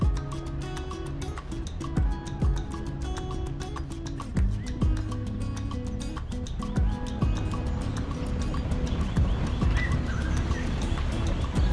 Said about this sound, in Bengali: চারিদিকে পাখির ডাক, নিস্তব্ধ জঙ্গল।